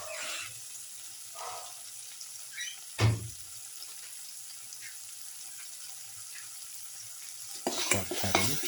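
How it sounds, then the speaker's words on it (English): Lamb with mixed spices sautés in a pan, a faint steady sizzle broken by occasional scrapes and stirring knocks of a utensil, one sharper clank, and busier clattering near the end. "thoroughly saute mix."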